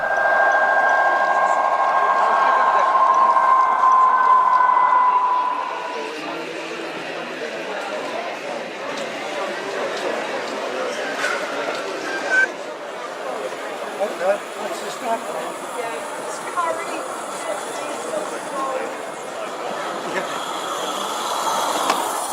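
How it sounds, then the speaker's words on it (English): A model Freightliner Class 66 diesel locomotive rumbles steadily at a model railway exhibition, its engine tone dropping as it pulls away from the station, with background crowd chatter throughout. "Freightliner's Class 66 just pulling away from the station"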